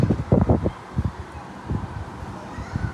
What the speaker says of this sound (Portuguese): E a ventania continua, viu?